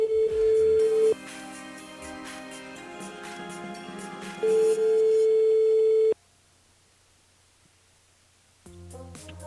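A telephone line signal during a call-in show on a radio station, loud steady tones that cut in and out over background music before dropping to near silence, then music returning.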